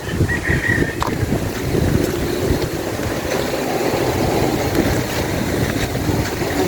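Strong wind buffets the microphone in a steady roar, with a low rumble of surf or sea beneath; no voices.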